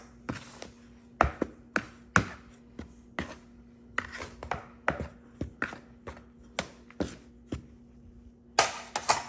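A spoon mixes halfcake (kangumu) dough of flour, baking powder, salt and sugar in a bowl. Sharp, irregular clinks and taps of the utensil against the bowl repeat steadily and are heard close up, with no talk.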